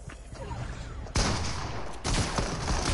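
Shotgun blasts in a video game: two sharp, loud broadband reports a second apart, each followed by sustained noisy gunfire that fills the rest of the moment.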